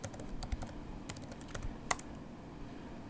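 A username and password are typed on a computer keyboard, with soft, irregular key clicks tapping close by in a quiet room, including one sharper keystroke near the end.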